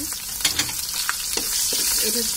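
Bay leaves and chopped garlic hit hot oil in a pan, setting off a bright, continuous sizzle with a few soft clinks and stirring scrapes near the start.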